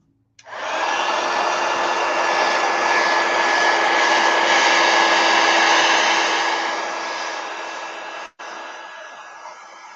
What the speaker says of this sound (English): let me hit it with a heat gun